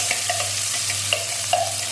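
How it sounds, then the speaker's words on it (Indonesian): Ground spice paste for Indonesian chicken soto sizzles steadily in hot oil, with light scraping and stirring clicks over the constant frying crackle. "bumbunya ini saya goreng"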